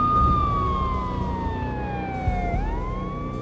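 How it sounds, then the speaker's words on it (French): A wailing police siren in the mobile video game Max Payne rises and falls, loud and close, over a low rumbling engine-like drone. "J'entendais le hurlement des sirènes se rapprocher."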